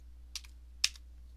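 Two quiet keystrokes tap on a computer keyboard, one light and a sharper one a moment later, over a faint steady hum in a quiet room.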